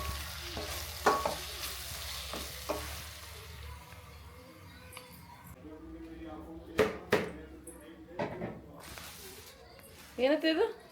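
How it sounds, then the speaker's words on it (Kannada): Spices tempering in hot oil in a home kitchen, a steady crackling sizzle with repeated sharp stirring clatters and scrapes against the pan, close and under intermittent conversation between people. "ಆ ಥರ ಒಗ್ಗರಣೆ ಮಾಡ್ಕೊತಾ ಇದ್ದೀನಿ"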